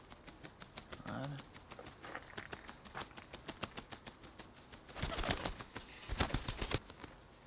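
A pigeon coos softly in a loft while wings flap and claws tap, with a burst of rapid flapping near the end and a person talking in the background.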